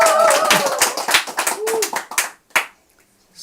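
A small audience at a talk gives scattered hand clapping, with a voice rising over the first moments before the claps thin into a few isolated ones and silence.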